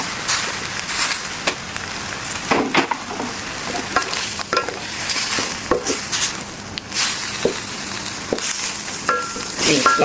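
Shrimp heads frying in hot oil in a Thai kitchen, with a steady close sizzle broken by repeated stirring scrapes and clinks of a utensil against the pan.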